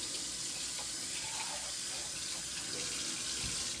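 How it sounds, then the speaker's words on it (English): A dirty two-cup measuring cup washed under a running kitchen tap, producing a steady hiss of flowing water with faint splashing, moderately quiet and continuous throughout. "Now you take your strangely very dirty 2-cup measuring cup and wash it."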